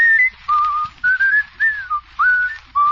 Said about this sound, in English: I'm surprised he can whistle.